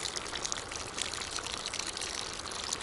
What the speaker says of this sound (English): We add extremely hot water,